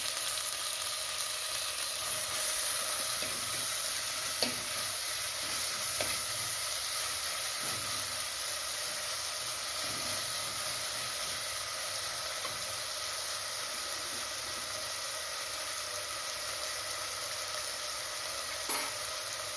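Onions and tomatoes fry in a pan for village-style egg kurma, giving a steady, close sizzle that holds for the whole stretch, with a few faint clicks and no talking.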